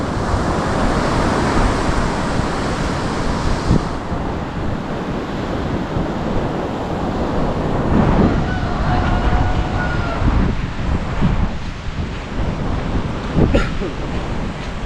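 Sea waves wash onto the shore at Bukana in a continuous loud surf roar, with heavy wind buffeting the microphone throughout.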